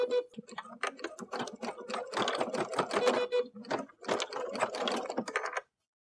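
A sewing machine stitching down quilt pieces in rapid bursts of needle chatter, several runs separated by short pauses, close and clear with no talking.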